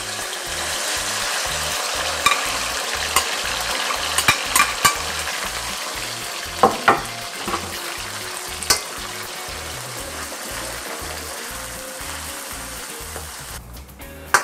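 Beef frying in a pan with onion-flavoured oil, giving a loud, steady close sizzle throughout, with a few sharp clinks and scrapes of a utensil against the pan and no talk.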